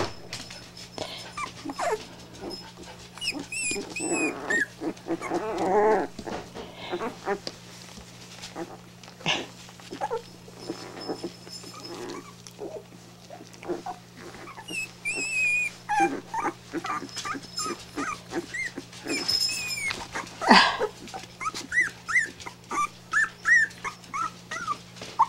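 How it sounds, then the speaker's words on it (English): Puppies whimper and yip in a chorus of thin, high whines, some close and some softer, with occasional louder cries over the course of the clip. "Say here's the puppies."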